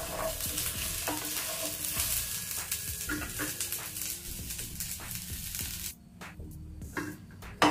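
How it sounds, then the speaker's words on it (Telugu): Coconut pieces frying on a low flame for a chutney, a steady close crackle and sizzle with occasional stirring scrapes, fading toward the end, no talk. "లో ఫ్లేమ్ మీదనే ఒక 2 నిమిషాలు వీటిని వేయించుకోవాలి."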